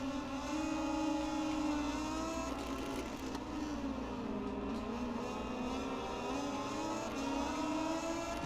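Motorcycle engine in MotoGP 20 racing game at the Kymiring circuit, a steady sustained drone with shifting pitch as the bike strains and bogs down, losing power while trying to reaccelerate, loud and continuous with no voices.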